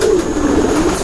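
Pigeon cooing in close, steady low murmuring tones from a racing pigeon being shown at a bird raffle, with no talk over it.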